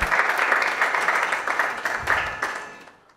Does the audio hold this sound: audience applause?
yes